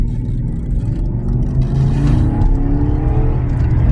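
A loud car engine with Flowmaster exhaust and the third muffler removed revs hard with a deep, throaty exhaust rumble. It pulls close and powerfully with no one talking.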